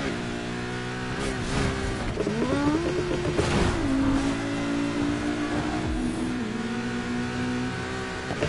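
A car in Need for Speed Heat revs hard through its gears, the engine tone climbing, dropping at each shift and climbing again in a loud, steady drive with no talk.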